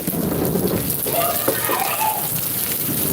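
Steady heavy rain pours throughout during a thunderstorm, with a dull rumble of thunder blended into the dense, continuous hiss; no voices are heard.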